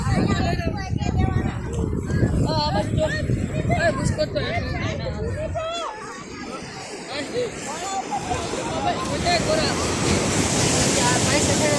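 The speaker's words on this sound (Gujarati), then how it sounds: "જુઓ તમે દરિયાનો માહોલ જુઓ." Sea waves break on the shore at Somnath in the morning, surging and washing up close with wind buffeting the microphone and a babble of distant voices from the beach crowd.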